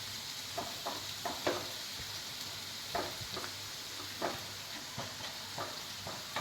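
Garlic frying in oil in a pan for a Kerala-style egg roast gives a steady, close sizzling hiss, broken by soft scrapes and taps of stirring at irregular intervals, with no talking.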